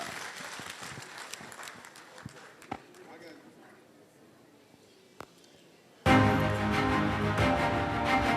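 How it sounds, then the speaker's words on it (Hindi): After a stretch of quiet murmuring with scattered taps, a hall audience suddenly breaks into loud, sustained applause that fills the rest of the moment. "मैं चाहूँगा एक बार पूरा सदन मिलकर तालियां बजाए डॉक्टर अनिल समोता के लिए।"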